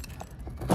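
Keys for a 2009 Chevrolet Silverado jangle close by in a short, continuous metallic rattle that swells louder at the end.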